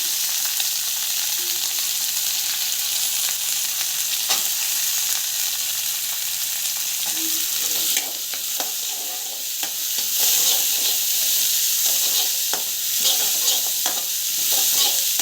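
Coconut and onion sautéed with chilli and garlic in a pan for chutney, giving a loud, continuous hiss of frying with frequent scraping stirs of the spoon throughout.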